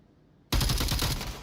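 Gunfire in the VR shooter Onward breaks out after a quiet moment: a sudden loud burst of rapid automatic shots, then a short pause and a fresh shot at the end.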